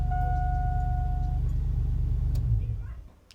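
A struggling car engine just jump-started, idling with a low rough rumble and steady ticking pulse, brief tones fading early, then dying away in the last second.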